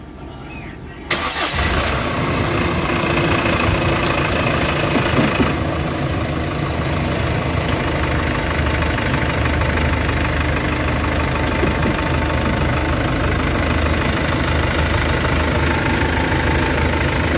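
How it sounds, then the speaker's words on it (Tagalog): A Hyundai H100 van's diesel engine, freshly given an oil change and engine treatment, starts with a sudden rise, then idles loudly and steadily with a rough, knocking clatter for over fifteen seconds. "Paandarin mo natin para marinig natin actual yung andar ng makina."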